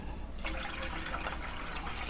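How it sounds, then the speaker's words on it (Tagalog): Water pours into a cooking pan with a steady, soft splashing trickle that starts abruptly and runs on quietly to the end. "Lagyan muna po natin ng tubig."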